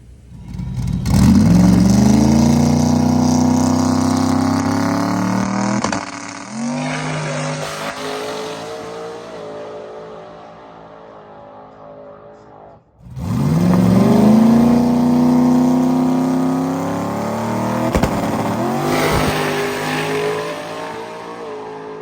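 A drag race car fitted with new parts roars through two hard test passes, the engine climbing steadily in pitch through the gears before backing off, very loud and close, with no talking.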